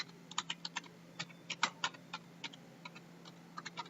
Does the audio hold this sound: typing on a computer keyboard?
yes